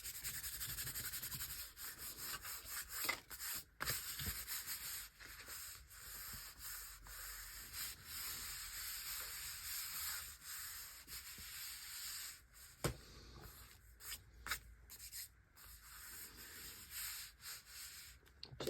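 Glued book pages are rubbed by hand to press them down, making a steady dry scraping and rubbing that runs continuously and close up, with short pauses and a few sharper scuffs toward the end.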